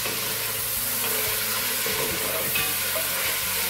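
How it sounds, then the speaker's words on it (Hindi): A kilogram of meat fries in a pot with a continuous loud sizzle and hiss, broken by scraping stirs, close and steady without speech. "ये 1 केजी आपका मीट था, इसको हम थोड़ा भून लेंगे इसके अंदर."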